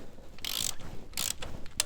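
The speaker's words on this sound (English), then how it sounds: "I won't remove the bolt just yet, but I'll just take that nut off." Short ratchet clicks from a spanner taking a nut off a bolt on a Royal Enfield Interceptor 650, heard as two or three close, crisp bursts of rapid clicking separated by brief pauses, with no talk.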